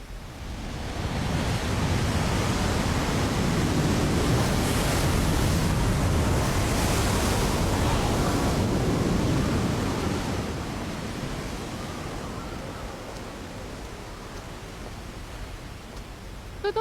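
Water flowing beneath a bridge gives a broad, steady rushing wash, swelling and then easing like surf, with no voices over it.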